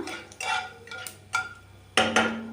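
Mustard seeds and chana dal tossed in a pan give a few distinct clinks and rattles, two louder bursts near the end, over a soft background sizzle with no talk.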